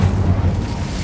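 An Incendio fire spell is cast in Hogwarts Legacy inside a goblin mine, giving a loud, dense, rumbling low burst of flame that fills the whole moment without fading.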